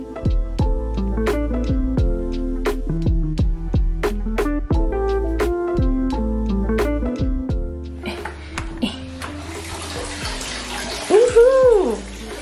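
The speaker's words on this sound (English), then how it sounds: "It's real natural onsen water. It's gorgeous and it just keeps overflowing." Natural hot spring water pours and splashes steadily into a filled onsen tub, overflowing, trickling and bubbling close by, with a brief voice near the end.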